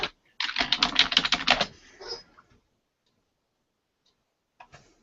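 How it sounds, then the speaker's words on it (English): Computer keyboard keys click in a quick burst of typing, a dense run of sharp close taps lasting about a second and a half, then fading into near silence with a couple of faint clicks at the end. "I just heard the clicking of the keys"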